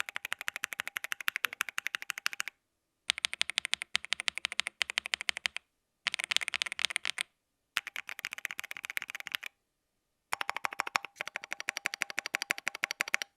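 Rapid clicky typing on a Keychron Q3 Max mechanical keyboard compared with a cheaper keyboard, several quick bursts of keystrokes separated by short silent pauses, close and crisp.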